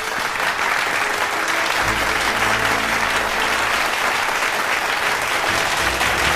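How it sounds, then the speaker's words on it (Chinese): Sustained, even applause fills an award ceremony hall from start to finish, a loud uniform wash of clapping with a low tone entering partway through. "让我们掌声有请纪明资本的创始人陆纪明先生上台领奖"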